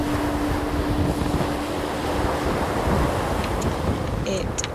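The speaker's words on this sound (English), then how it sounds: "Waves are getting pretty big." Ocean waves surge and roar steadily around a rowing boat riding out big seas on a parachute anchor, mixed with heavy wind buffeting the microphone, a broad continuous wash with a few faint clicks near the end.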